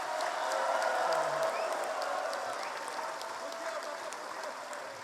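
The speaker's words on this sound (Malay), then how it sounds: "Tepukan itu tidak cukup kuat untuk beliau." Audience applause at an UMNO presidential winding-up address, a broad steady wash of many hands clapping at a distance that slowly eases in loudness over several seconds.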